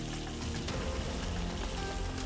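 Fish sizzles in a hot pan with lime leaves, a dense, steady frying hiss that stays close and continuous throughout, with no talking.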